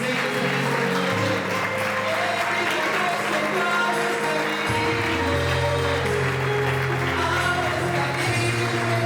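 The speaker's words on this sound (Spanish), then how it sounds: "¿Qué le parece si damos un aplauso a su presencia en esta noche?" A church congregation applauds at an evening service in a sustained wash of clapping, heard near and loud, with music and voices underneath.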